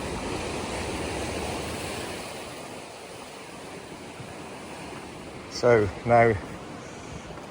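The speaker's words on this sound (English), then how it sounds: "The sea crashes in." Sea waves crash against a rugged, rocky coastline at Cap Salou on the Costa Daurada, a broad steady roar of surf with wind noise, briefly interrupted by someone speaking near the end.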